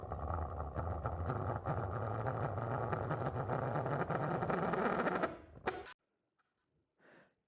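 A 3D-printed pulsejet engine runs loud and steady with a harsh, continuous buzzing roar of rapid detonations, then shuts off abruptly, leaving near silence with a faint afterward sound.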